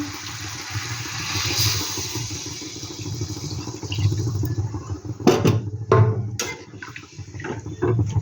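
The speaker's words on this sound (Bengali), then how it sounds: "আমি মশলা দেওয়া থালাটা দিয়েই জলটা দিয়ে দিচ্ছি।" Water tipped from a spice plate into hot jackfruit curry in a kadai brings a couple of short splashing, hissing bursts after a low steady cooking rumble.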